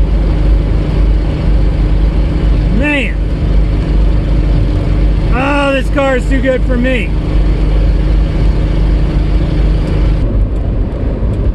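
A 1977 Datsun A10 wagon's engine hums steadily under a driver's voice on a test drive, a loud, constant drone with speech in the middle.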